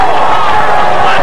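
A college football crowd at Redmen Field roars as a dense, loud wash of cheering and murmur, with a commentator talking over it.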